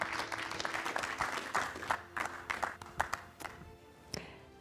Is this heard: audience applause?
yes